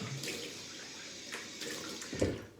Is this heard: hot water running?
yes